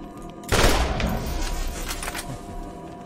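Loud burst of gunfire from newly acquired weapons in the video game Borderlands erupts suddenly and rolls on in a dense, rapid fusillade with lingering booms, no talk over it.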